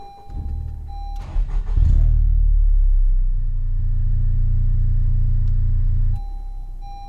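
A Honda Civic Type R FK8 with a manual gearbox is started by push button: a whine and a whirring crank, then the engine catches and settles into a deep, steady idle rumble up close, and a chime tone returns as it quiets.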